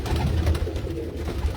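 Low, rolling coos come from a flock of teddy pigeons kept on an Islamabad rooftop, blended into steady outdoor background noise.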